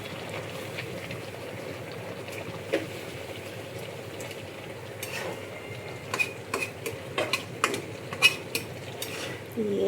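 Hilsa fish head and tail are added with oil to a pan of taro leaves and stirred, giving a low bubbling simmer with scattered spoon clinks and scrapes that grow busier and louder near the end, without speech.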